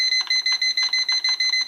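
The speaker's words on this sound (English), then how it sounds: "Excuse the beeping." Rapid electronic beeping from an electric pressure cooker, a steady series of short high-pitched beeps in quick regular bursts, close and fairly loud.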